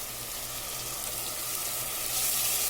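Ginger garlic paste sizzles in a pan of dal masala with a steady, even frying hiss that holds and swells slightly over a few seconds, with no voices.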